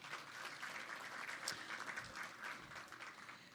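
Applause from an audience at a morning chamber business event, steady and moderately loud throughout after a presentation, with no talk over it.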